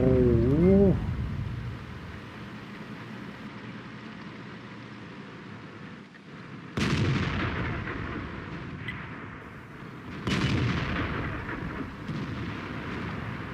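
A JgPz E 100 tank destroyer's cannon fires twice in World of Tanks, each shot a heavy, booming blast that trails off in a long rumble over a steady battle ambience, with a short voice at the very start.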